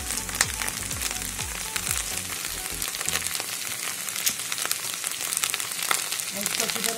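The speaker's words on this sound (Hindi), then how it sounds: "इसको तेल में अच्छी तरह से हम भूनने के लिए छोड़ देते हैं।" Okra and green chillies fry in hot oil for a Punjabi bhindi dish, giving a continuous crackling sizzle with a few soft stirring scrapes early on.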